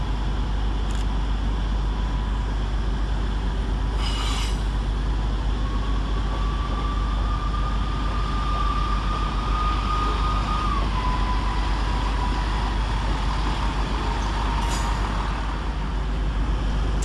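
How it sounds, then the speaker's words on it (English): Northern Rail train 158844 arriving at Sheffield station from Leeds, a steady loud rumble throughout with a long rising-and-falling whine from the train and occasional brief clanks, no talk. "Arriving to terminate with a Northern Rail service off Leeds is"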